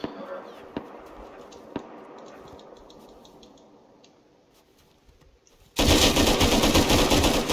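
Gunfire in the survival video game Rust: a few sparse, isolated shots at first, then a sudden loud, sustained burst of automatic fire that runs to the end.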